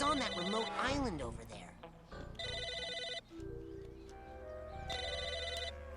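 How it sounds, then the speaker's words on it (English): A telephone rings in the video game Psychonauts, bursts of electronic ringing repeating between pauses, with someone speaking over the start and soft game music underneath. "Phone's ringing."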